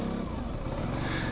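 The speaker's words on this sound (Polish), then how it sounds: "praktyczna próbka tego, jakie dźwięki emituje zespół napędowy współczesnego motocykla" Drivetrain of a modern motorcycle recorded with the microphone right beside the engine: a loud, dense, steady mechanical rumble and whir with no breaks over the short span.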